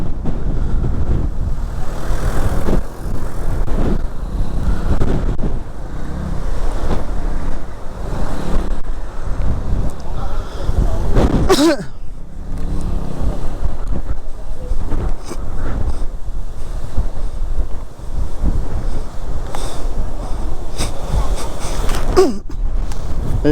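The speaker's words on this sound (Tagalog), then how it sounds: "grabe yung hangin" Strong wind roars and buffets constantly against the microphone outdoors in Malico, a loud, unbroken rush with gusty surges and occasional faint voices beneath it.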